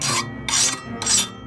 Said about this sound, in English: Here I'm using a round file to file the inside where I can't reach with my angle grinder